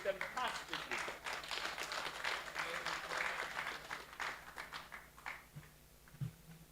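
A crowd applauds a speaker, Dr. Luidiko, at the close of a day at a STEM event; dense, steady clapping fills the clip, thinning toward the end with a few scattered claps.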